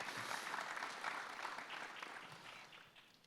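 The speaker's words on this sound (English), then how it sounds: "Mr. Muzumdar deserves a huge round of applause" Audience round of applause at a university conference session, a dense, even patter of clapping heard from a distance that slowly fades over a few seconds.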